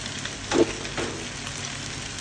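Street-style noodles with chopped egg and salt fry in a pan, a brief close sizzle with a single stirring scrape as they are tossed together.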